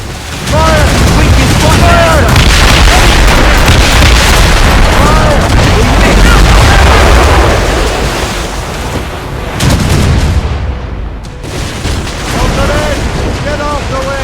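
Naval cannon fire in Assassin's Creed Rogue: a barrage of heavy booming shots rolls across open sea, with surf and wash beneath and shouted voices mixed in, thinning out toward the end.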